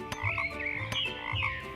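Cartoon frog in a children's story croaking repeatedly, several bright warbling croaks in a steady rhythm, close and clear, with no one talking.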